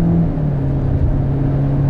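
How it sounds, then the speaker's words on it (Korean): A new Hyundai Avante's engine hums steadily while driving, its low drone swelling slightly louder with a smooth, even rise and no sharp revving. "그냥 엔진 소리가 조금 커지는 것 같은데"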